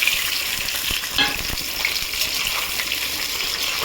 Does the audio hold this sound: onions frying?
yes